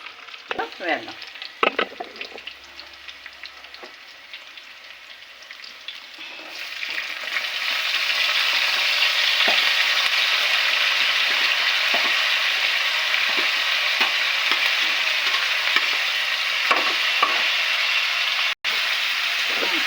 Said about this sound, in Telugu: మామిడికాయ ముక్కలను, పచ్చిమిరపకాయలు, కరివేపాకు బాగా వేగిపోతుంది.